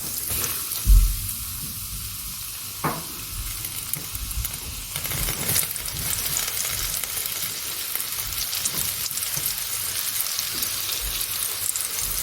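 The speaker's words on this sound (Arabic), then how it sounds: "وهيك الزيت صار عنا حامي. طبعا خلينا الصنوبر قبل، هلا بنزلهم بالزيت" Pine nuts go into hot oil with a bump, then a steady crackling sizzle with scattered pops that continues close by.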